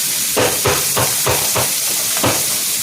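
Broccoli and other vegetables steam in a covered pot on a stove for a Jamaican-style meal, giving a steady close hiss broken by soft rhythmic knocks about every third of a second.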